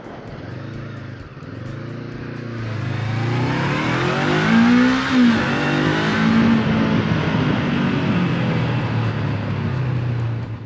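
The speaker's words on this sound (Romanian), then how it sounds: "Cum o să las și motocicleta să o auzim cum sună." Honda NX500 motorcycle engine revving up in traffic, a loud, close rising drone that climbs in pitch and holds steady, with no talk over it.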